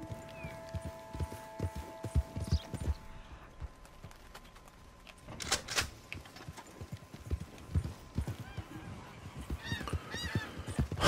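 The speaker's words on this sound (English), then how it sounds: "I hear the ducks, the ducks," Ducks honk and quack in Red Dead Redemption 2, scattered calls in the distance over repeated horse hoof clip-clops and a brief whinny, with no voices.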